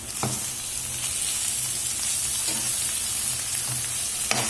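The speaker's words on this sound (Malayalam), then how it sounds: "കുറച്ച് വെളുത്തുള്ളി ചതച്ചത് രണ്ട് മൂന്ന് പച്ചമുളക് കീറിയത് ഇതൊക്കെ ഇട്ടിട്ടൊന്ന് വഴറ്റാം" Crushed garlic and slit green chillies sauté in a hot pan for a chicken roast, giving a steady close sizzle with a few sharp stirring scrapes.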